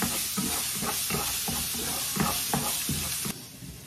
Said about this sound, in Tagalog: Nilagyan ko na to ng olive oil guys. Tapos, lagyan ulit natin ng garlic.